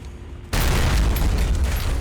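A Howitzer gun blows up in a World War II shooter game set during a rescue of captured Marines from a Japanese POW camp, with a sudden loud blast at about half a second and a rumbling roar that carries through to the end.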